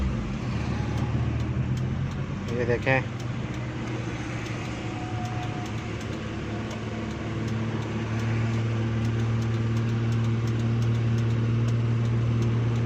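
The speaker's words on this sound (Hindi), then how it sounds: "गाड़ी को स्टार्ट किया" A car engine, just fitted with a repaired turn signal switch, cranks and catches about three seconds in, then settles into a steady low idle with a faint voice briefly speaking over it.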